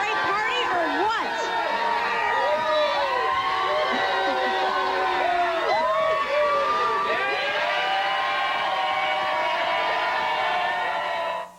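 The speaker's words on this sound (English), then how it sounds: "They're cheering" A party crowd of about 120 people gathered for the Super Bowl keeps up a loud, dense wash of cheering, whoops and shouting throughout, with overlapping voices and a constant roar close by.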